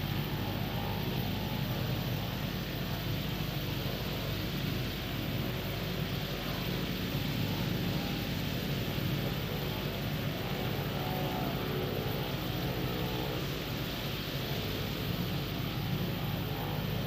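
A steady, loud aircraft engine drone runs on without a break in a flight simulator game as the plane comes in to land on runway 09, with no talking.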